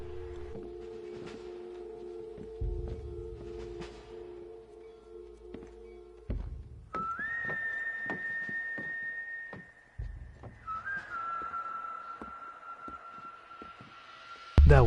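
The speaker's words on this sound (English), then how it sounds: "That whistle is just out of this world." A sustained steam train whistle from Red Dead Redemption 1 sounds for several seconds, holding a steady pitch then dropping slightly, over rhythmic clanking and ambient game noise, without talk.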